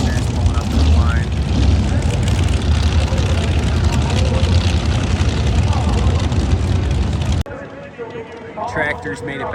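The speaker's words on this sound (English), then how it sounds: "Sounds of the superchargers on the gassers pulling up to the line." Supercharged drag-racing gassers rolling up to the starting line, a loud, dense, continuous engine roar that holds steady before cutting off abruptly near the end, leaving quieter background noise.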